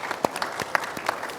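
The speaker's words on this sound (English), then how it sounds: "so big round of applause for all of them" Conference audience clapping for panelists at a cyber skills event, a short, sparse patter of individual claps with a few louder hits, close and fairly quiet.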